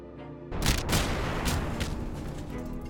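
A burst of cannon fire in the naval combat of the game A House of Many Doors, a heavy boom followed by rolling, rumbling explosions that keep sounding loud and dense without pause.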